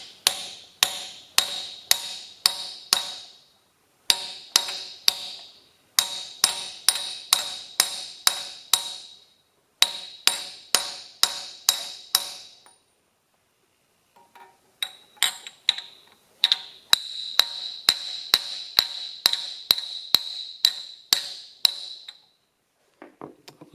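A replacement camshaft bearing on a 1967 John Deere 4020 diesel being driven in with a hammer striking a large socket, sharp metallic blows in quick rhythmic bursts of six to ten, separated by short pauses, close and loud.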